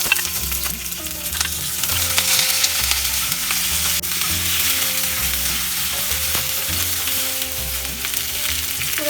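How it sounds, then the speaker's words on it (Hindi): Vegetables half-frying in hot sesame oil in a pan give off a steady, close hiss and crackle with occasional stirring scrapes, running continuously under background music. "वेजिटेबल्स हमें हाफ फ्राई करना है, 3-4 मिनट फ्राई करना है जस्ट।"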